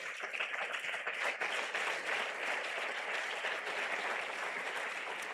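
A church congregation applauds together at an Easter service, a dense, steady wash of many hands clapping that fills the room from start to finish.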